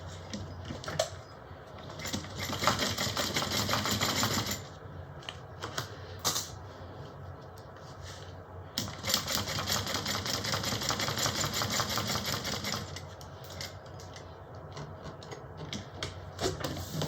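A sewing machine runs in long steady bursts while top stitching around three sides of a small bowler bag, with a brief pause between runs and a mechanical rattling hum, alone and close.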